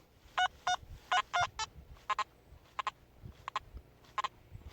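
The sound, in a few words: metal detector tone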